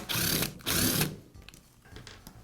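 A cord clamp is being unscrewed and removed from a Porter Cable sander, with two loud bursts of a whirring power screwdriver followed by quieter clicks and handling of the tool's parts.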